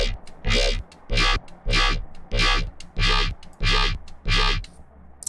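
Seven punchy, gritty Phase Plant wavetable synth bass notes in a steady rhythm, heavily distorted and buzzy, each with a brief gap between, played alone and loud.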